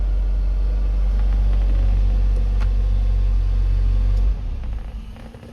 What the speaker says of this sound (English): Now we're going to stop the engine.